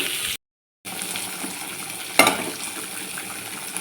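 Shrimp curry with potato, eggplant and yardlong beans is stirred in a pan. A steady close sizzle and frying hiss runs throughout, with one brief sharp scrape of the utensil midway and a short gap of silence near the start.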